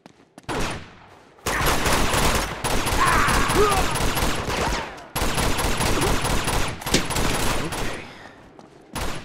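Sustained bursts of gunfire in the video game Uncharted 2: Among Thieves Remastered, loud rapid volleys with brief gaps, while a voice occasionally speaks over the shooting.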